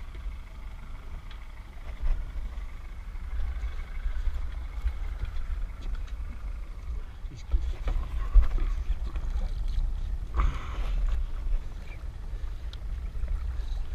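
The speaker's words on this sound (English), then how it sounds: "Turn the engine off, Trace." A boat's engine rumbles low and steady on the water in the Florida Keys during a shark catch, a continuous drone with occasional splashes and bumps, and faint voices in the background.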